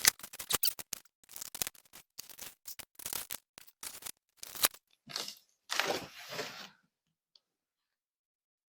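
Cardboard box of a Predator 5000 dual fuel generator being cut along the bottom: a close run of crisp scraping and crunching cuts in quick bursts, then a few longer tearing strokes, all without talk.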